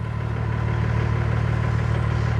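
A Caterpillar diesel engine in a classic restored truck idles steadily and loud up close, a deep even rumble with no talk over it.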